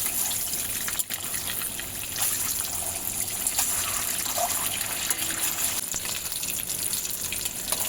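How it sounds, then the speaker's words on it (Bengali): Eggs frying in hot oil in a pan for egg malai curry, a steady dense crackling sizzle that stays close and constant throughout, with a few brief pops and no voices. "কত সুন্দর ডিমগুলো ভাজা হচ্ছে।"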